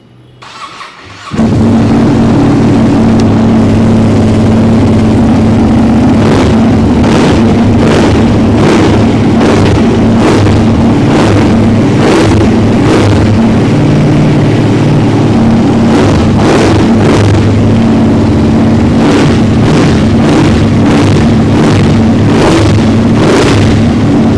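A superbike engine with a clear clutch cover starts up and runs loud and steady close by, its deep idle broken by a series of sharp throttle blips through the middle and end.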